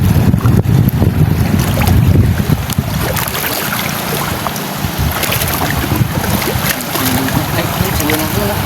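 A small motor boat chugs along with wind buffeting the microphone and water splashing, the engine loud and close throughout.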